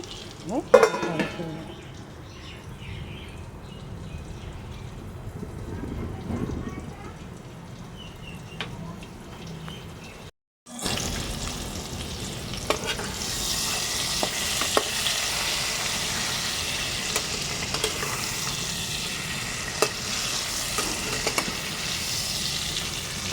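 Ash gourd with mustard cooks on a low flame, a soft frying sizzle with light clinks of pot and utensil, briefly cut off and then returning as a fuller, steady hiss with occasional scrapes and faint background voices.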